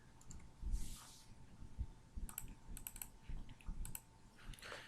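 Quiet bursts of computer keyboard typing, with scattered quick key clicks coming in short clusters, close and alone.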